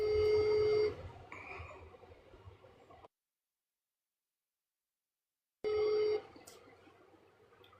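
A phone call ringing out while waiting for someone to answer, a tonal ring burst at the start, a long silent gap, then a second ring burst, with faint background sound around the rings.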